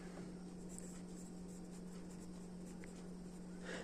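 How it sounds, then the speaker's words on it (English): Pen or pencil scratches across paper as someone writes out kinematics notes, a faint series of soft strokes and taps over a low steady hum, close and quiet with no speech. "I will write it here."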